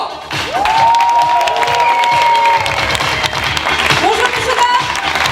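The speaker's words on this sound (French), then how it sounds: "Je vais vous demander un tonnerre d'applaudissements pour celle qui va m'accompagner sur scène" A loud burst of applause and cheering greets a host arriving on stage at a closing show, with dense clapping, whoops and whistles, and an amplified voice heard over the crowd partway through.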